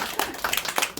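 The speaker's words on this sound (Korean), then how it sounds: "우리 한영의 박수 한번 하겠습니다" Brief clapping from a church congregation welcoming someone during a service, a handful of uneven, fairly quiet claps over about a second.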